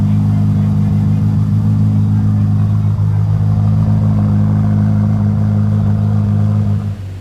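A Ferrari F8 Tributo supercar with its V8 engine idles loudly and close in a showroom, a deep steady rumble with slight revving that drops away at the very end.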